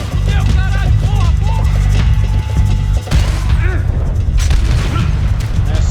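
Heavy gunfire and booming impacts in the video game Max Payne 3, set in a favela, loud and continuous with dense overlapping blasts and crashes and a brief dip partway through.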